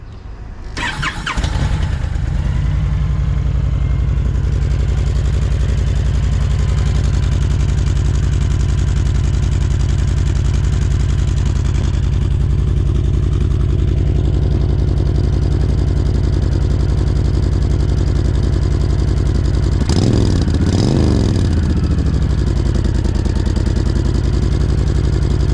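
Brand-new zero-mile Honda Fury 1300 motorcycle cranking and firing up, then settling into a loud, close, steady V-twin idle, with a single sharp rev blip rising and falling later on.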